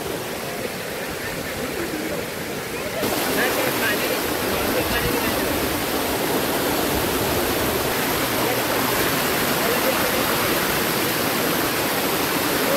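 The Dhurnali waterfall near Otur, water falling in two or three tiers, gives a loud, continuous roaring rush that fills the whole stretch without a break, growing slightly fuller partway through.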